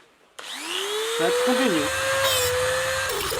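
A lock bolt head on a Gazelle bicycle mudguard is ground off with a power grinder, close by, as a steady rising whine held for a few seconds. Someone speaks briefly over the start.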